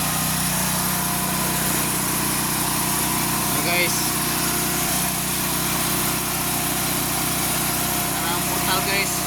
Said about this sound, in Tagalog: Saba kayo makina guys.